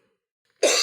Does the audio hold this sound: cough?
yes